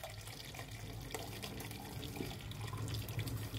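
Two litres of hot water pour from a tap-like stream into a cooking pot while making Palestinian rishta with lentils, a steady continuous splashing rush heard up close with no talking.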